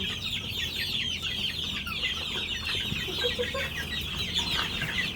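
A flock of young farm chicks peeping and cheeping continuously, a dense, noisy chorus close by with no talking.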